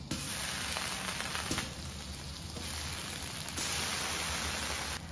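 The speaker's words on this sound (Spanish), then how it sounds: "Del otro lado de la parrilla con un poco de aceite voy a poner el queso" Cheese frying in a little oil on a grill gives a steady, loud, close sizzle and crackle with no break, like hissing rain, and nobody speaks.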